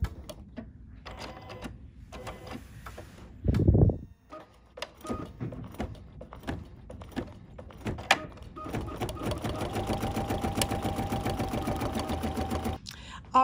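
An embroidery sewing machine stitches a placement line in rapid, steady mechanical bursts broken by short pauses and clicks. It is close but moderately quiet, with speech earlier in the clip.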